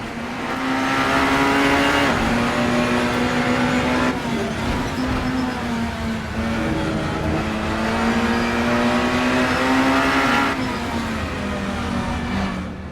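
Race car engines roar loudly and continuously in a multiclass racing video game event at the Green Hell track, with a Honda among the cars, engine tones rising and falling through gear changes and corners, with occasional tire squeal.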